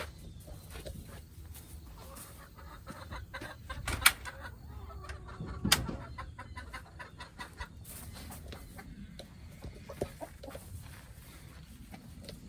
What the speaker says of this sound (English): So let's go feed the chickens.